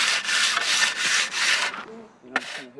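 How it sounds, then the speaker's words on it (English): Wet concrete is hand-troweled for a DIY BMX skatepark, with four rhythmic back-and-forth scraping passes close up, then a pause and a sharp knock. "What we're doing here is we're trying to mimic the trowel"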